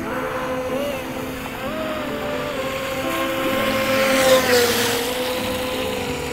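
A UDIRC Arrow 5 RC speed boat runs across the water, its small motor giving a steady whine with rising and falling pitch, heard at a moderate distance over wind and water noise.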